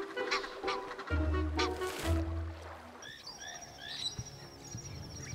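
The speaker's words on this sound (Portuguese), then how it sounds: "Os gansos do Egito lutam ferozmente em disputas por território, envolvendo tanto machos quanto fêmeas" Egyptian geese fighting over territory on a river give a burst of harsh honks and squawks, loud and close at first, followed by a series of quieter rhythmic calls and cackles.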